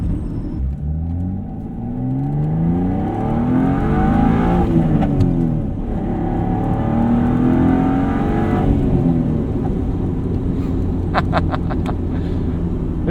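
A 1992 Dodge Stealth RT twin-turbo V6 engine revs up hard, climbing in pitch toward 7,000 RPM, eases off and climbs again, with a few sharp pops near the end.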